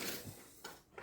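A kitchen drawer pulled open to fetch a spatula while making cold porcelain, giving a short wooden slide and a couple of quick knocks in a quiet room.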